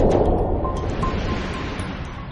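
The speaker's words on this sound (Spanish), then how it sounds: "la inmediata subida de la marea del río Qiantang provoca que se cree un macareo que llega a alcanzar los 9 metros" A tidal bore surging up the Qiantang River makes a continuous, loud, broadband roar of rushing water, steady throughout with no voices.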